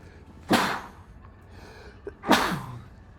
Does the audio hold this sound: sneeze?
yes